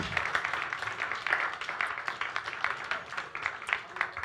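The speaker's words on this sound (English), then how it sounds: "Give these people a round of applause" Audience at a magic show at Caveat NYC clapping in a small room, a modest steady patter of hands lasting a few seconds, moderately close and fairly quiet.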